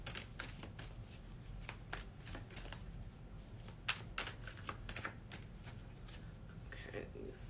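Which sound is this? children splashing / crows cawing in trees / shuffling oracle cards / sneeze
shuffling oracle cards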